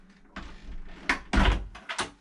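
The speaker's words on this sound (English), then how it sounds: "at night you can close this door off" A cabin door on a Princess 43 motor boat is handled and pulled shut, with several close wooden knocks and thuds in quick succession: a bump, a heavier closing thud, then two more sharp knocks.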